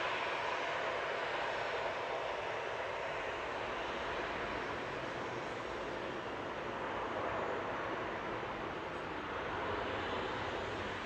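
An airliner takes off in the background at Manchester Airport, a distant, steady reverberating engine rumble that fills the whole span at low level with no voices over it.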